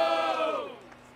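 A crowd at a rap battle cheers and shouts in a loud, dense burst that gradually fades over about a second. Individual claps are not clearly distinguishable within the noise.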